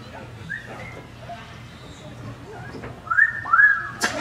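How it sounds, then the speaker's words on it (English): A male Amazon parrot at a safari park gives a couple of bright, rising whistles near the end, loud and close, after a stretch of quieter background chatter and faint bird calls. "A little bit of a whistle to get the girls' attention."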